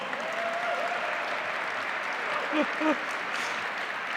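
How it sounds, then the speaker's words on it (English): An audience at the Oklahoma Governor's Arts Awards gives a steady round of applause for Amber Sharples, a dense wash of clapping that carries on throughout while voices rise briefly above it. "Let's give another round of applause to Amber Sharples."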